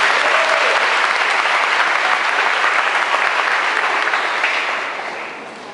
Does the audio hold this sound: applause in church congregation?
yes